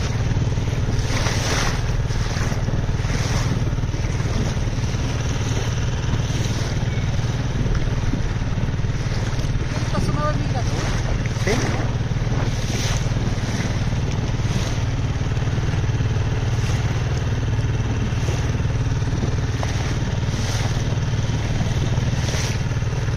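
A boat motor running steadily at sea, a loud continuous low drone mixed with wind and wave noise, unbroken for the whole stretch.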